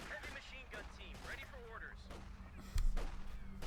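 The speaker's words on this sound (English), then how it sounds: "Shots being fired." Gunfire and artillery bursts from a Company of Heroes 2 battle between Wehrmacht and US Forces, scattered shots under continuous commentary, with a heavier, louder blast near the end.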